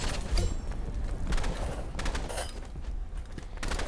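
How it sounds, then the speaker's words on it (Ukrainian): Continuous gunfire in the Roblox game Rivals, rapid repeated shots forming a steady fusillade with brief louder bursts, heard under game background noise. "Чому він безконечно стріляє?"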